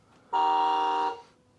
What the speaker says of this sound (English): And, of course, the old F1 horn.